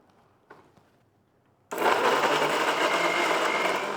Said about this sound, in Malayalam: ഇതൊന്ന് ബ്ലെൻഡ് ചെയ്തെടുക്കാം കേട്ടോ.